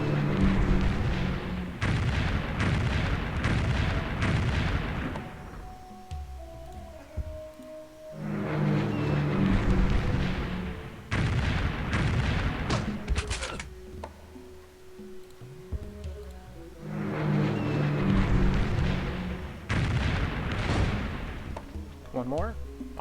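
Tank combat in Civilization III, with repeated rounds of booming gunfire and artillery-like blasts in long sustained bursts separated by brief lulls, loud and close.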